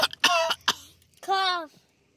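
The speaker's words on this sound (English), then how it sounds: "Cough." A child gives a few short coughs close by, two quick bursts and then a longer, voiced throat sound, with brief silences between them.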